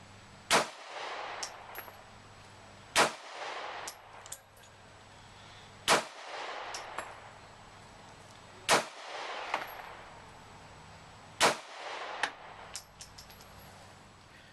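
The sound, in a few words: gunshots from a SIG Sauer P290 9mm pistol at 15 yards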